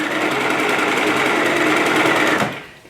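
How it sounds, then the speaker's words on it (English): A sewing machine runs along an apron seam in a fast, even, close mechanical whir for about two and a half seconds before slowing and stopping. "I have stitched along this line."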